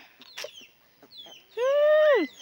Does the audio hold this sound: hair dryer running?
no